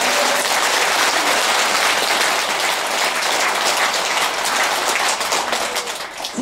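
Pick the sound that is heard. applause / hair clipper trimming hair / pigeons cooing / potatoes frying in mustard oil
applause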